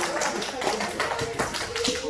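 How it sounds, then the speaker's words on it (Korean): Children at a church elementary Sunday school clap in a brief scattered burst of quick claps, fairly soft and overlapping with voices. "우리 다시 박수!"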